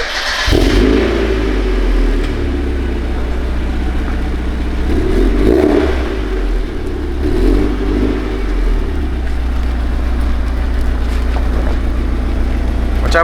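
A Mazda Miata with a 1.8 engine cranks and fires up, then settles into a loud, rough idle with several rises in revs, heard up close and alone.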